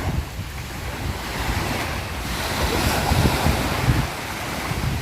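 Sea waves surge and wash steadily onto a beach with a strong current, a continuous roaring surf with wind buffeting the microphone and a swell in intensity midway.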